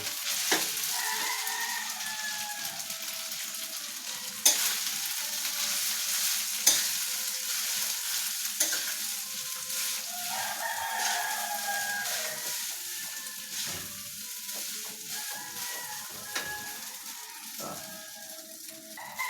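Rice for Filipino garlic fried rice (sinangag) sizzles and crackles in a hot pan, with scraping stirs and occasional sharp knocks of a spatula against the metal throughout.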